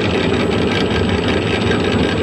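A small gear train on a home-built spindle, meant to sit in an oil bath, runs with a steady, fairly quiet mechanical hum and light vibration, continuous and close with no talking.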